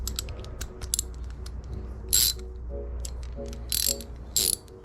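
A socket ratchet clicks as it tightens hitch receiver bolts on the frame of a Chevy Astro/GMC Safari AWD camper van. Short bursts of rapid pawl clicking are heard up close, with small metallic knocks between bursts.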